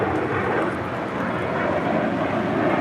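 An airliner roars down runway 25 right at LAX on its takeoff run, a loud, steady broadband engine rumble that fills the whole stretch without letup.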